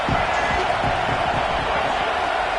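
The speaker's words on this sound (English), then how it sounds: "Here comes the noise from this big crowd in Happy Valley on third down." Crowd noise in the Happy Valley stadium on third down in the college football video game College Football 26: a dense, loud, unbroken roar of many voices that stays steady throughout.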